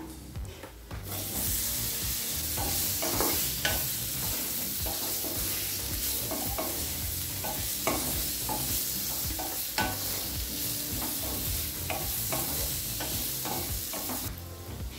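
Boiled elephant foot yam gets stirred into sizzling sautéed masala in a pan, a continuous frying hiss with repeated scraping strokes of the spoon, close and steady, no voices.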